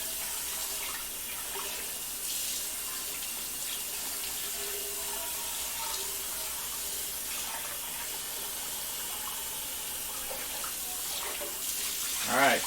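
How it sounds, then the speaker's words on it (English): A kitchen sink tap runs steadily while a cooking pan is washed, with splashing and scrubbing over the flow and a brief gush near the end. "Just going to clean the pan here."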